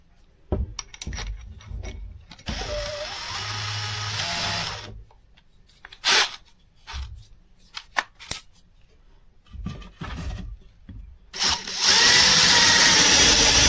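A Craftsman 20V cordless drill with a dull bit whirs in short bursts and stops, with clicks, rattles and handling noise between runs, close and fairly loud.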